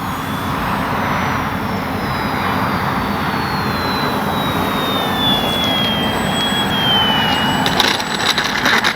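An FMS Ranger 1220 RC plane comes in to land, its electric motor a loud, steady whining drone over broadband wind rush, with the pitch slowly falling as it passes.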